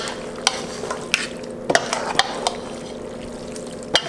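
Tomato sauce mixture for lasagna stirred in a pot, a steady wet swishing under faint sizzle with several sharp spoon clinks against the side, no voices.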